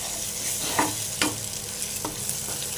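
Tomato, salt, kasuri methi, ginger and cumin sizzling together in a pan while being stirred: a continuous close crackle punctuated by a few distinct spoon scrapes, with no voices.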